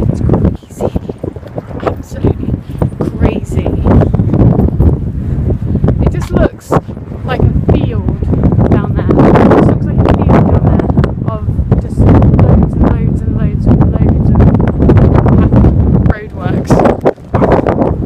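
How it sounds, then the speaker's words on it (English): Strong wind buffets the microphone outdoors beside a road in loud, ragged gusts that hardly let up, mostly covering someone talking throughout. "I don't know if I can hear me right now because it's windy."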